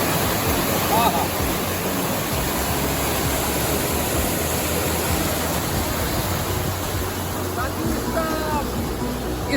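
Water rushes through the Tawa irrigation canal, about 9 feet deep and 100 feet wide, in Harda–Hoshangabad, making a loud, dense, continuous roar with a close, churning texture and no break across the whole stretch.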